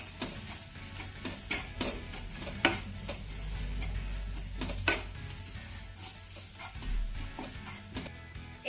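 Spices being stirred and sautéed in a pan for a spinach and boiled potato breakfast, giving soft steady sizzling with repeated light ticks and taps of a spoon against the pan, close and fairly quiet.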